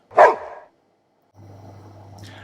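A sled dog in the snow gives a single sharp, close bark, followed by silence and then a low steady hum.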